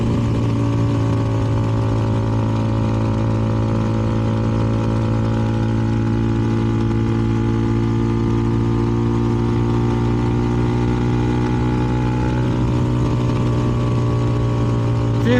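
A CFMoto 300NK motorcycle fitted with a KO exhaust idles steadily and close by, giving a continuous loud engine drone that stays level and alone throughout.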